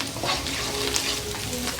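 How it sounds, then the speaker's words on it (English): Fresh cut onions fry in hot oil in a pot, giving a steady, close hiss and crackle with faint stirring. "I have some fresh onions which I cut and I put it to fry a little bit"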